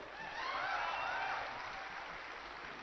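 Audience applause at a gathering where officials are being introduced: a dense, steady wash of clapping that swells in the first second and a half, then eases slightly and carries on evenly to the end, with no voices over it.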